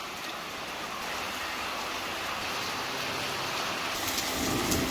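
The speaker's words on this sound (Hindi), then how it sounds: "तो भी बाहर हो गई है झमाझम बारिश शुरू" Heavy rain pours down in the mountains, a steady dense hiss that holds throughout and grows slightly louder toward the end, with no voices.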